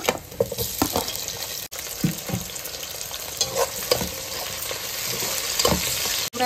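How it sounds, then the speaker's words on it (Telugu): Tomato pieces and green chillies fry in a pan for chicken biryani, a close, steady sizzle with a stirring scrape now and then, and no talk. "కొంచెం బ్రౌన్ కలర్ వచ్చే వరకు ఫ్రై చేసుకుందాం"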